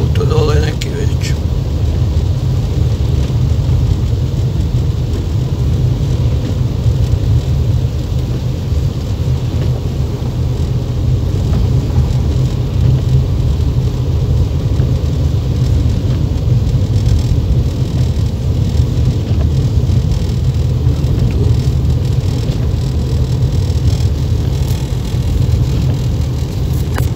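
A car passes on a snowy road during a blizzard, heard from inside a moving vehicle as a steady, loud low roar of engine and wind noise that continues throughout.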